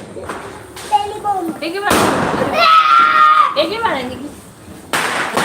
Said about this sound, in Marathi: लक्ष्मी बॉम्ब